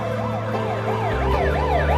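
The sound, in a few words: ambulance siren approaching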